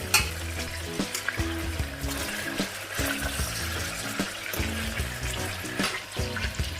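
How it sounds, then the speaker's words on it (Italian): Pork pieces searing in a pan for a traditional Sunday ragù, giving a steady, loud frying sizzle with irregular clinks and scraping of stirring throughout. "aggiungiamo anche la carne di maiale, facendola sigillare su entrambi i lati"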